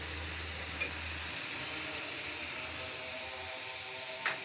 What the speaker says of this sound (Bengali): মশলাটি ভোনা হচ্ছে